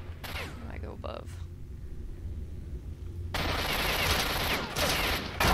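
Pistol gunfire in S.T.A.L.K.E.R.: Shadow of Chernobyl, a few sharp reports early on, then a dense, loud burst of fire and blasts in the later half, with a player talking over it.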